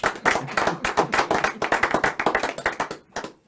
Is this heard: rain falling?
no